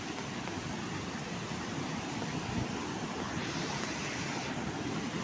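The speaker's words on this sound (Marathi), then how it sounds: "हा इकडून पाणी येतं ना जोरात त्याच्यामुळे हे बघा." Water rushing strongly into a small stone check dam in a Konkan village during the July monsoon, a loud, steady broadband roar with no break for the whole stretch.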